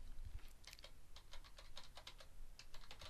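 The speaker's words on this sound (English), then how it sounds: "but I'm going to type in sweetener." A single word is typed on a computer keyboard in a quick run of soft, close keystroke clicks in uneven bursts over a few seconds, fairly faint and without talking.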